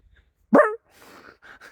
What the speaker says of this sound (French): Il arrête pas d'aboyer, votre chien, hein?